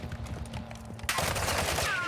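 A steady low hum, then a sudden burst of rapid gunfire from Call of Duty: Modern Warfare II DMZ mode that keeps going, fairly faint and somewhat distant.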